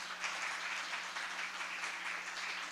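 A church congregation applauding, a faint, even wash of many hands clapping at a distance, steady and unbroken throughout.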